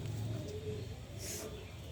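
Domestic pigeons let out into the open coo softly in low, rolling tones, with a faint background hum behind them.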